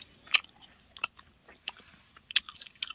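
Someone bites and chews fried pork cutlet (tonkatsu), giving several sharp crunchy bites at spaced intervals, up close and fairly quiet, with no talking.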